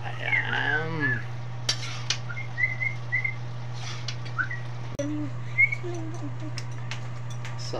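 A person whistles a tune while stirring food in a pot, with a few scattered melodic whistles, light scraping and utensil clinks, and a steady low hum underneath.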